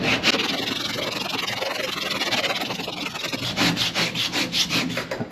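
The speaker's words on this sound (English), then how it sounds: "I'm going to try just to sand it with a block" A sanding block is rubbed by hand across a truck door, giving a continuous raspy scraping that grows into quicker back-and-forth strokes toward the end, close and steady, with no voices.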